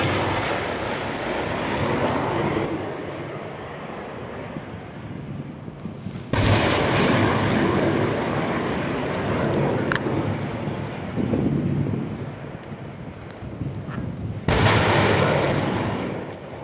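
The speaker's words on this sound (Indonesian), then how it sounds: "Marinir Amerika Serikat melakukan uji tembak 12 roket dari peluncur bergerak di lapangan tembak kaki Gunung Fuji, Jepang pada Rabu waktu setempat." US Marine HIMARS mobile launchers fire rockets at a range at the foot of Mount Fuji, Japan: a sustained loud roar with two abrupt surges as new rockets launch, heard outdoors with wind.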